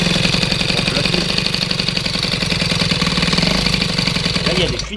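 An engine idles close by after a restart, a steady loud rumble with a rapid, slightly knocking pulse, running unchanged throughout before cutting off abruptly at the end.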